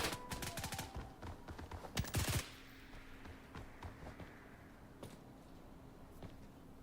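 FAMAS rifle in the game BRM5 firing rapid bursts of sharp shots for about two seconds, then a few scattered single shots, all at modest level, with no talk.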